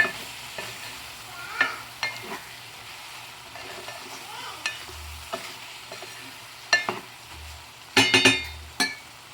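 Brinjal pieces frying in oil give a low, quiet sizzle. Scattered stirring scrapes and sharp metallic clinks of a utensil against the pan break through it, with a brief voice in the background.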